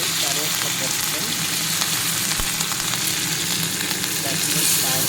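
Mustard seeds sputter in hot oil, a steady sizzle with scattered sharp pops and crackles, close and continuous.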